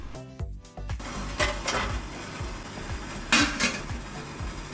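Metal idli plates clatter and clink as they are set into a steamer, a few sharp bright knocks and rattles over low kitchen background, close and moderately loud.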